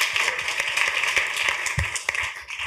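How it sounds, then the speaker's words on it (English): Audience at a Hamilton County commissioners meeting applauding award recipients, a scattered round of hand claps at moderate distance, uneven and thinning out over a few seconds. "So one more round of applause for the"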